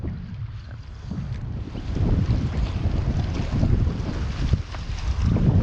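Strong wind buffets the microphone while fishing from a boat near rocky points on the Nong, a steady low roar with gusts building louder and constant through the moment, no voices.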